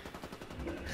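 Rapid gunfire from the video game Ghost Recon, a dense burst of repeated shots with a rising, building intensity toward the end, heard alone without voices.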